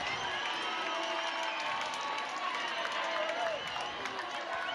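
Crowd noise at an NCAA softball game between Nebraska and Oklahoma State, a dense continuous roar of cheering and shouting from the stadium, with a commentator's voice running over it.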